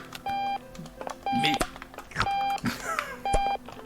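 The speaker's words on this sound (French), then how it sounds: "je veux pas de ce bruit de réveil là" Repeated electronic beeping of an alarm clock in the video game Octodad: Dadliest Catch, four loud bursts of rapid beeps spaced about a second apart, with someone speaking between and over them.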